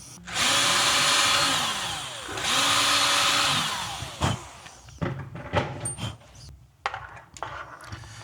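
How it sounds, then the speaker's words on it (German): A power drill enlarges the center hole of a Vespa GTS 310 scooter license plate holder in two loud, close whirring bursts, followed by scattered clattering and handling knocks. "Dafür hätten wir natürlich das Mittelloch dann nicht unbedingt aufbohren müssen."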